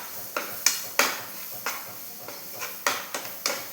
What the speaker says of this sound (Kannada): ಈಗ ಚೆಂದ ಮಾಡಿ ಮಿಕ್ಸ್ ಮಾಡಬೇಕು